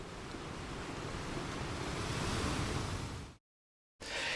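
Deep-sea underwater ambience for a stop motion animation, a dense steady wash of low rumbling, surf-like noise that swells gently, cuts to silence near the end, then briefly returns.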